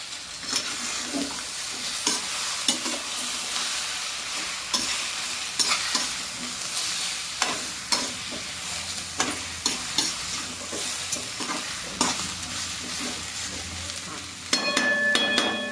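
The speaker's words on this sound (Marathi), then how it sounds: "मसाला परत परतण्यासाठी" Spice masala with coriander powder sizzles and fries in a pan while a spoon stirs and scrapes repeatedly, in steady clinking strokes.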